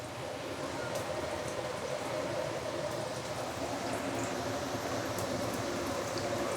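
Steady, dense crackling and sizzling of pork belly deep frying in hot oil, continuous and close, with no voices.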